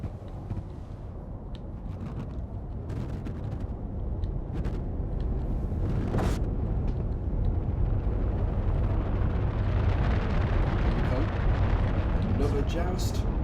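Turrets on capital ships fire in a space video game battle, a dense continuous rumble of booming shots and blasts, with sharp bursts scattered throughout and a louder roar building toward the end, under a commentator's voice.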